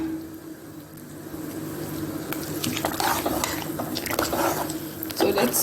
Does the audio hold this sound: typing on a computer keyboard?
no